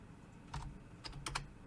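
A computer keyboard being typed on in a few short, quiet bursts of key clicks with pauses between them.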